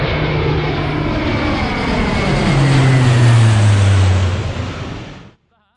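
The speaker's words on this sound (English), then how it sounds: "Well, that's a low flying plane." A low-flying propeller plane passes overhead in rural countryside, a loud, continuous engine drone whose pitch drops as it goes by before the sound cuts off abruptly.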